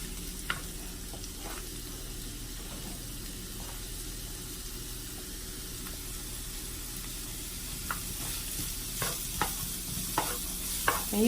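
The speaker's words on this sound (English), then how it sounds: "we are going to take the vegetables and cook them up just a little bit." Vegetables for cheesesteak filling sizzle in a pan under a steady frying hiss, with scattered spatula clicks and stirring scrapes growing busier toward the end, heard up close without talk.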